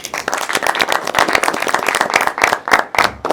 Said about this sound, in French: On s'applaudit les gars.